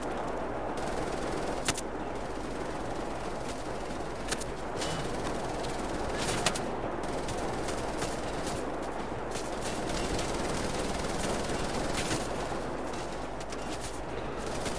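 Gunfire fills a shooter battle in Wolfenstein The New Order: dense, continuous bursts of automatic weapons with sharp individual cracks and booming impacts, loud and relentless across the whole stretch.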